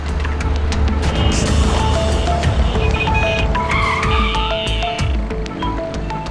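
A car brakes to a halt in a crime drama scene, with tires squealing and skidding over a loud, steady engine rumble that fills the whole stretch, and no voices.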